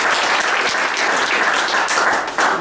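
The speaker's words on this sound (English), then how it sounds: "another round of applause for all the mentors" A round of applause for startup mentors at a Lean Startup Machine pitch event: a roomful of people clapping steadily and fairly loudly for a couple of seconds, a dense, even patter of many hands.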